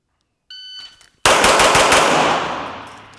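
Rapid burst of gunfire from a shooting drill at 5 yards, five rounds fired at a target, loud and close, following a brief electronic beep of a shot timer, with echo trailing off.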